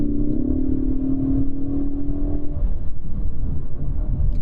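2022 Ford Mustang EcoBoost automatic downshifting while driving, a steady engine drone with a brief rise and shift in pitch over road rumble, heard from inside the cabin without talk.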